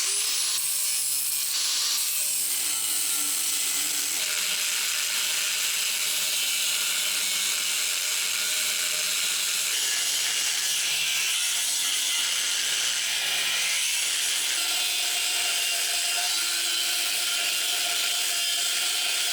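Steady, harsh cutting and grinding on the exhaust of a Lexus SC400 during an EGR delete, a continuous hissing rasp that shifts in pitch and runs through the whole stretch, loud and close with no talking.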